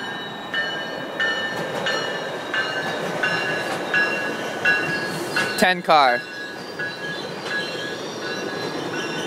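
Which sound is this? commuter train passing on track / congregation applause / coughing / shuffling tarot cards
commuter train passing on track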